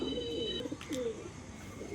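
A pair of Punjabi pigeons kept in a cage cooing nearby, with soft, rolling low coos repeating over a faint steady background hum and a brief tonal whine at the start.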